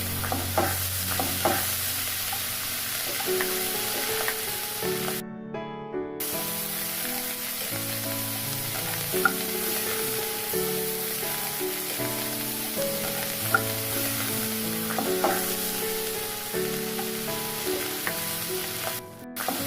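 A steady sizzle of spice paste frying in a hot pan as cumin, coriander, turmeric and chili powder are added, with occasional stirring scrapes and soft music running underneath.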